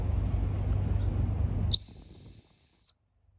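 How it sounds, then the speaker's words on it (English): A World Cup CyberWhistle referee whistle gives one piercing, very high-pitched blast lasting about a second after a stretch of low rumbling background noise, then cuts to silence. "It's a very high pitched whistle."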